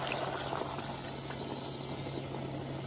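Water poured into a pot of stuffed grape leaves rolled with olive oil, a steady continuous gushing and bubbling wash that runs evenly from start to finish, close and fairly loud, with no talking.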